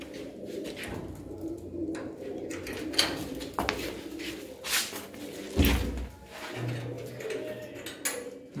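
Cooing from high-quality Chinese (cheena) pigeons, red-white and black, a flying breed kept in Ludhiana, comes in soft low bursts among scattered bird calls, with a few knocks and clatters.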